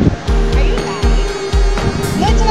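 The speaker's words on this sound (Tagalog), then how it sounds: "grabe yung alon niya" Strong ocean waves at a beach in Ilocos Norte crash in loud, repeated surges roughly every half second to second, with heavy rushing surf close by and brief talk underneath.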